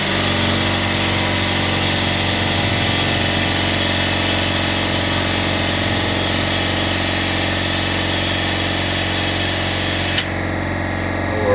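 A portable 4x4 tyre inflator compressor pumps air into a tyre with its valve core removed. It makes a loud, steady mechanical drone that runs unbroken for about ten seconds, then cuts off abruptly near the end.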